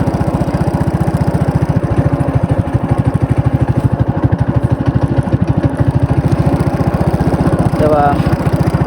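A modified mini bike engine runs loud and close with a fast, steady chugging pulse that holds for several seconds and shows a slight rise near the end.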